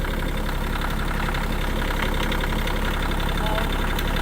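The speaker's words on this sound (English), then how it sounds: "All right, put it in gear." A heavy equipment engine idles steadily right after being put in gear while clearing the last stump from an RV area, a continuous loud rumble with vibration running throughout.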